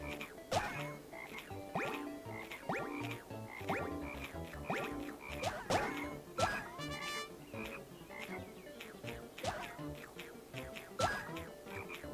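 Cartoonish frog croaks from a video game recur in quick, repeated bursts over busy game music and effects, with some talk mixed in.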